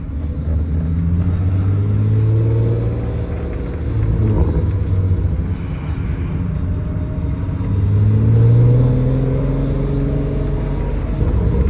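A Volkswagen Mk1 with a swapped-in VR6 engine drives in first gear, its low engine rumble rising and falling steadily and close up, with no talking.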